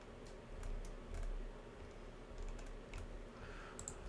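Faint, sparse keystrokes on a computer keyboard, a few scattered clicks over a low hum in a quiet room.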